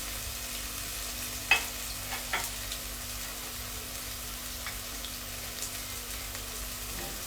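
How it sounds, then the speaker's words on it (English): Finely chopped onions fry in oil over high heat, a soft continuous sizzle at low level with a couple of brief clicks or knocks, no one speaking. "So the heat's quite high and the onions being fried."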